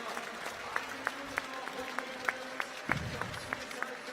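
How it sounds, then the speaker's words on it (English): Spectators at a UCI Trials World Cup women's final in Berlin give sustained applause with sharp, regularly spaced claps, while a commentator talks over the crowd. "And the crowd loves it."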